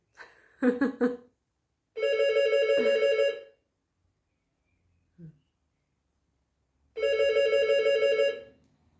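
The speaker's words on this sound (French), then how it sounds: "Le téléphone sonne." A telephone rings in a quiet room, two long electronic rings with a gap between them, loud and clear, after a short burst of a voice and a faint sound in the pause.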